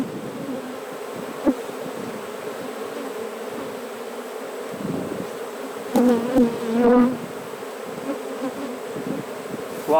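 A dense, low drone of many honeybees buzzing close by at a hive, with one louder bee passing near the middle.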